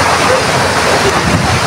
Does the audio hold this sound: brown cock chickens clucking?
no